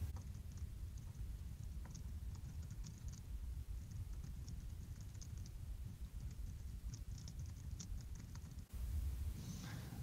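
Steady rapid typing on a computer keyboard, a dense stream of light clicks and taps running through the whole stretch over a low background hum.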